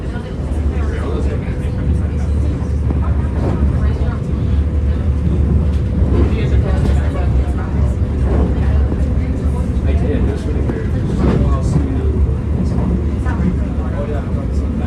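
Caltrain northbound limited-stop train #421 from Menlo Park to San Francisco 4th and King, heard from on board: a continuous loud rumble with rattling and clanks across the whole ride.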